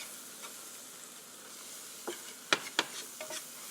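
Flour whisked into sauce in an electric skillet gives a faint sizzle and a few sharp metallic whisk clicks and scrapes, close and brief.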